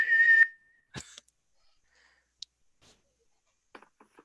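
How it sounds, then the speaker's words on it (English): A police whistle in a staging of Pygmalion gives one short, shrill, trilling blast at the start, followed by a few faint clicks and scattered small noises in near silence. "There, police whistle."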